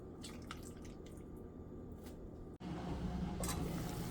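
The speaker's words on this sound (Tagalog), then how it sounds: "Dagdag tayo ng tubig." Water splashes and trickles into a pot of milkfish and pork belly paksiw after a brief pause, with dripping sounds and a low background hum.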